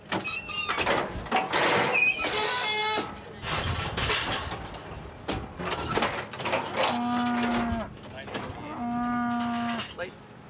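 A herd of cattle mooing repeatedly, several loud nearby calls overlapping with others in the pen, long drawn-out lows standing out clearly near the end.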